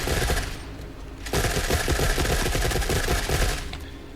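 Automatic gunfire from a gun in the video game Forever Winter, a dense rapid stream of shots with a brief dip near the start, then sustained firing before trailing off, loud and close with no talk.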